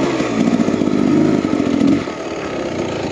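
A 2023 Beta X Trainer 300 enduro dirt bike engine revs loudly and close, a buzzing two-stroke drone that rises in pitch and then settles to a steadier lower note.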